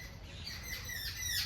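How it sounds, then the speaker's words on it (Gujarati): House sparrow chirps near a spot where it seems to be building a nest, a run of quick bright tweets repeating across the short stretch, moderately close against soft background noise. "જો પક્ષી આવ્યું છે."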